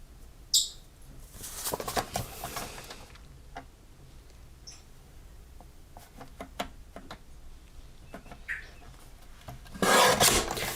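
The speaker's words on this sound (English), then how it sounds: "I'm gonna trim this down a little bit." A paper card base being trimmed at a craft table, with rough rasping and rubbing strokes in bursts, a loud scraping stretch early and another near the end, scattered small ticks and taps between, close by and without speech.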